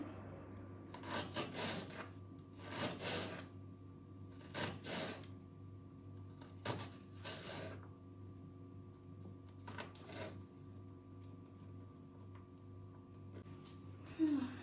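A knife cuts food on a wooden board during quick snack prep, with a series of soft, irregular scraping strokes and taps over a low background hum, fairly faint and close.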